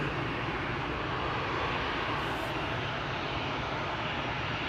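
An Air France airliner lined up for departure at Amsterdam Schiphol Airport, its engines giving a steady, broad roar that holds evenly throughout without a break.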